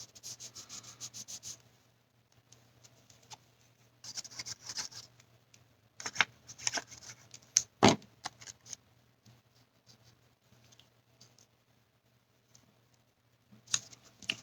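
Paper trimmed off the edge of a handmade faux ribbon fold card, several close bursts of crisp cutting and rustling paper separated by quiet gaps, with one sharp snap near the middle.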